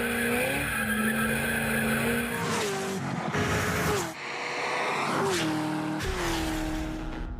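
A Chevrolet Corvette ZR1 with its 638-horsepower engine is driven hard, its tires squealing in long screeching slides over a loud, revving engine that rises and drops between bursts.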